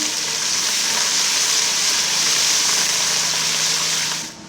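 Onions with garlic and ginger paste frying hard in a pan, a loud, dense, unbroken sizzle that cuts off abruptly at the end, no voices.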